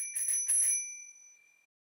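A bicycle bell rings in a few quick strikes with clear metallic tones that hang and decay for about a second, heard alone in a quiet space.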